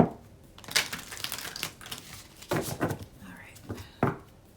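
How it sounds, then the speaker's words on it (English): Tarot cards are shuffled in quick, soft bursts of riffling and flicking, close by and fairly quiet, with brief pauses between rounds. "Hopefully you're not hearing too much of the shuffling."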